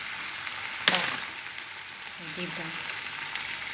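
Chicken liver fries in a pan with a steady, soft sizzle, cooking for Filipino adobong atay ng manok; a sharp clink sounds near the start and a voice speaks briefly.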